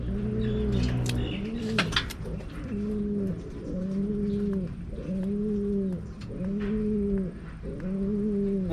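Racing pigeons cooing at a loft during a hard race's third lap in Vigan, Ilocos Sur, with repeated rhythmic coos close by and brief rustling or clatter early on.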